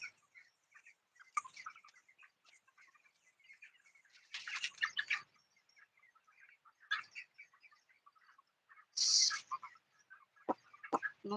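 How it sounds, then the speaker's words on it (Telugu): Thirty-day-old chicks in a poultry shed beside a field give faint, scattered cheeps and short clucks. Several brief louder bursts of chirping break through a mostly quiet background. "ఇవైతే ముప్పై రోజులు కోడి పిల్లలు అండి"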